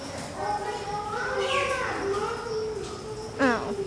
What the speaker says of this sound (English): There's a bird. There's a lot of birds.